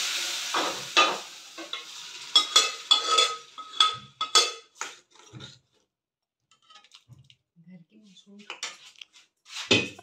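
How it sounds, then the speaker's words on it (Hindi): Masoor and arhar dal is tempered and stirred in a kadhai, with sizzling and rhythmic scraping of a spoon against the metal pan in short bursts, fading to quiet gaps with a few faint clinks. "कढ़ाई में दाल छौंक रहे हैं"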